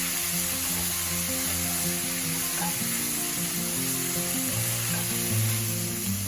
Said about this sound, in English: Then place the octopus and stir fry them.